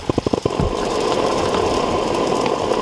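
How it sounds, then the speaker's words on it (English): Gas burner on a Trangia camping stove roars steadily at close range after a few quick clicks of ignition, a continuous broadband rush with no talk over it, heard during stealth camping in Welsh woods. "Oh, listen to that gas going."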